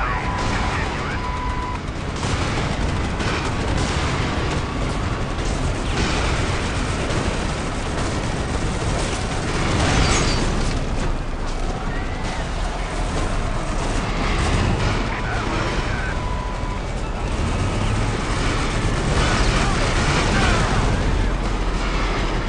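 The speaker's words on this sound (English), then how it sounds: "Deploy fire on my 12," An artillery barrage in the video game Prototype thunders in a dense, continuous wall of booms and explosions, loud and unbroken throughout, with radio-style voices mixed into the din.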